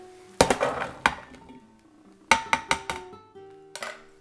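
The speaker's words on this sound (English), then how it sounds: "Once you have the onions in, you can dump your beans in there." Baked beans tipped from a can into a cooking pot of onions set on high heat, with a run of sharp metallic clanks and ringing knocks in two close bursts, loud and near.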